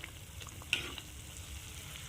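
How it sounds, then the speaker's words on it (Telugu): Ariselu, rice-flour sweets, frying in a pan of hot oil, giving a steady soft sizzle with faint bubbling and one brief clink near the start. "తిప్పుకొని మనం చక్కగా ఇలా అరిసెల్ని ఫ్రై చేస్తే ఇలా చక్కగా పొంగుతాయి ఫ్రెండ్స్ అరిసెలు"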